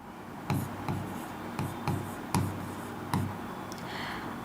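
Chalk or a marker writes on a board in a biology class, making six or so distinct strokes with sharp taps and scratchy drags at an even pace, close and clear with no talking.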